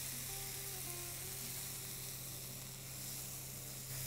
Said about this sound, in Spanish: Movemos bien, hacemos este sofrito del arroz integrándolo.